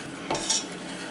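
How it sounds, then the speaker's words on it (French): A utensil stirring melting caramel in a pan, a soft scrape and a light clink against the metal over a quiet, faint sizzle, heard alone. "On remue."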